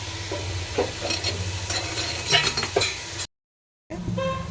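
Chicken biryani ingredients fry in a pot under busy stirring, with loud sizzling and repeated metallic scrapes of a ladle, then a brief cut to silence before the frying resumes, with no talk.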